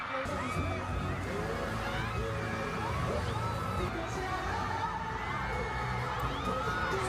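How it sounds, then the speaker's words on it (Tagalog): A crowd screams and cheers continuously inside Philippine Arena before an SB19 sound check, a dense wall of high shrieks and whoops with babble underneath, loud throughout. "Grabe, sigawan agad."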